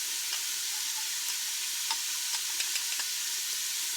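Minced garlic, a heaping tablespoon spooned into a hot pot for Zuppa Toscana, sizzles in a steady, close, bright hiss with a few small crackles and spoon taps, and no voices.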